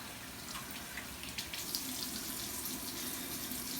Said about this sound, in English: Today I'm going to wash my hands.